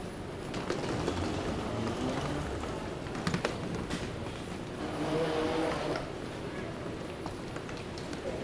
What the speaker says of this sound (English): This air train actually runs pretty frequently.